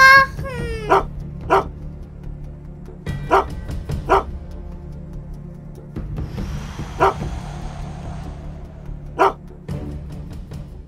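Repeated sharp dog barks in short bursts come through clearly over a low steady hum, with a rushing hiss partway through, from a children's Playmobil toy film.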